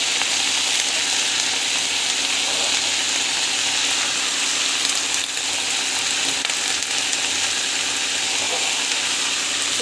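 Mint leaves sauté in a hot pan, producing a loud, steady, close sizzle and frying hiss that runs without a break.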